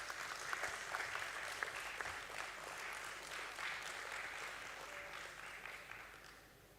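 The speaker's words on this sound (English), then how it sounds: "Let's have a round of applause for the BSE team." An audience at a company stock-exchange listing ceremony applauding the BSE team, a steady, fairly faint round of many hands clapping that tapers off toward the end.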